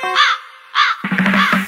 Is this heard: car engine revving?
no